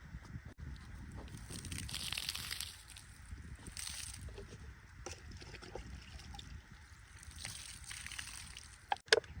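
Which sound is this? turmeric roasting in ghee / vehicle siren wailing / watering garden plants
watering garden plants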